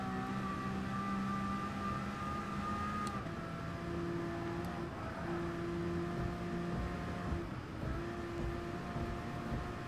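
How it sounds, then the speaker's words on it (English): A LaFerrari engine drones through a tunnel in Gran Turismo Sport, a steady loud hum with gear shifts stepping the pitch up and down, echoing and continuous throughout. "It's what a LaFerrari in a tunnel should sound like."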